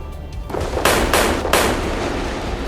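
US Navy gunfire aimed at an Iranian cargo ship at sea: after a quiet start, a few sharp, loud reports ring out about a third of a second apart over a constant roaring background, then give way to sustained heavy noise.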